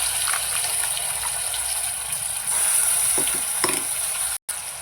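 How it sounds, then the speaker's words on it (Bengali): Ginger, garlic, onion and tomato paste frying in a pan, a steady close sizzle with a few scraping stirs toward the end, no voices. "এবার এটা ভালো করে ভেজে নেব।"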